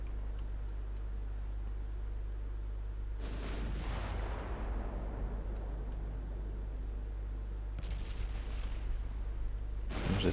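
Warship main guns fire during a 1940 Norwegian naval campaign in Ultimate Admiral Dreadnoughts. A deep boom rolls into a long fading rumble, and a second, sharper salvo follows later, over a constant low engine drone.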